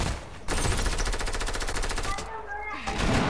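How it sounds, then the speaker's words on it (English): Rapid SMG fire in a video game, a fast rattling burst of closely spaced shots that pauses briefly and then resumes, heard alongside game sounds and background talk. "I have to kill them with an SMG."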